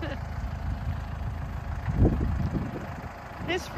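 A tractor engine idling in rural central Portugal, a steady low rumble with a brief louder thump partway through, heard under people talking.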